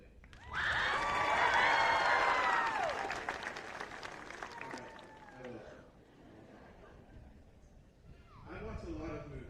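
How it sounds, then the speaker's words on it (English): Applause and cheering from a school audience at a high school event, a loud burst that builds quickly, holds for a few seconds and then fades into scattered clapping, with voices rising again near the end. "please give a big round of applause"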